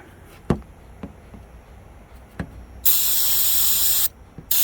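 A few light taps, then a loud steady aerosol spray of mass air flow sensor cleaner hisses for about a second, stops, and a short second burst starts.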